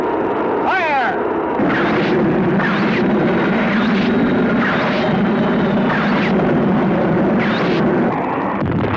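An atomic weapon exploding on hitting the ground in the 1965 film Gamera: The Great Monster: a loud, sustained roaring blast with repeated rumbling surges and crackling bursts, fully filling the scene.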